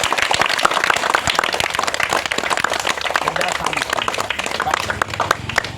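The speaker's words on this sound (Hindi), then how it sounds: "ताली बजा दो एक बार सब लोग" An outdoor street magic show audience clapping together, many hands beating in quick uneven bursts, close and loud, with voices mixed in.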